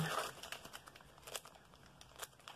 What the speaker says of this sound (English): So please excuse the crinkly plastic.